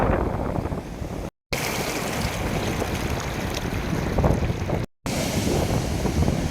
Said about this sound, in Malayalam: ശക്തമായ തിരമാലയാണ്